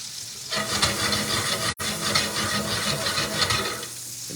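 Food fries and sizzles in a hot pan as it blisters. A loud, close, continuous crackling hiss is joined by stirring scrapes, with a momentary break near the middle. No voices are present.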